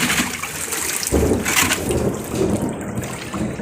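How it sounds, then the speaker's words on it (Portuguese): Heavy rain pours steadily during a stormy afternoon, a dense, close hiss of falling water with small surges in loudness and no voices. "Tá vendo? Tá chovendo. E vai chover mais."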